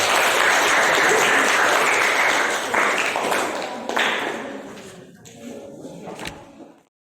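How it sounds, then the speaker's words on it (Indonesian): Students in a classroom clap loudly together after a dynamic electricity physics presentation, and the applause tapers off and fades to silence after several seconds. "Sekali lagi beri tepuk tangan dulu."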